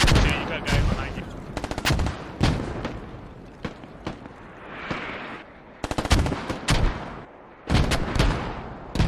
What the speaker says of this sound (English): that mortar barrage is right on you